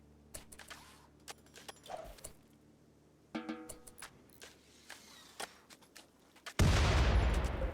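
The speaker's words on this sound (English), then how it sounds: "it explodes immediately on impact" An explosive weapon is test fired in the RimWorld video game, a run of sharp, scattered shots and impacts that ends in a sudden, loud blast of broadband noise.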